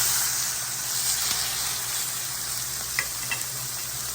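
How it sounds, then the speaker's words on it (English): Raw chicken laid flat into a pan of hot oil fries with a steady, close, continuous sizzle and hiss, with a few faint pops near the end and no talking. "I heated up my pan with oil. I want to go ahead and put this chicken in there."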